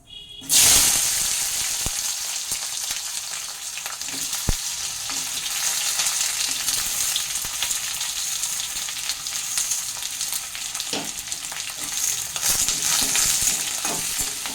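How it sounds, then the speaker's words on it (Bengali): Chopped raw green tomatoes hit hot oil seasoned with nigella seeds and fry with a loud, continuous sizzle for a long stretch, punctuated by a few sharp spoon knocks and stirring sounds close by. "এখন এতে আমি এই কাটা কাঁচা টমেটোগুলো সব দিয়ে দিচ্ছি"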